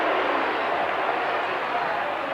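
Dense, steady roar of a huge football crowd at the 1984 VFL Grand Final between Hawthorn and Essendon, a continuous loud wash of cheering with no breaks, heard from within the stadium.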